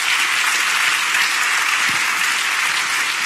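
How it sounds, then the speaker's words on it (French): A large audience at a CCI Troyes et Aube trophy ceremony applauds Jean-Michel in a loud, continuous roar of clapping that stays even and full from start to finish, close and with no talking. "Merci d'applaudir Jean-Michel"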